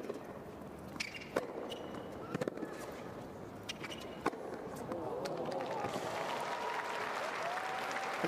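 A tennis crowd at a women's match between Swiatek and Linette breaks into applause that swells and holds steady, heard at moderate distance with scattered sharp claps early on.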